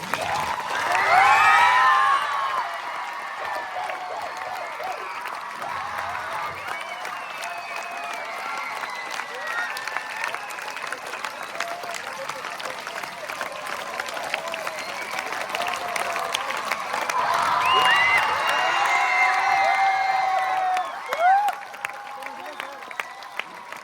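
School children shout and cheer loudly as a dense, sustained crowd roar, swelling near the start and again toward the end, with scattered shrieks and whoops.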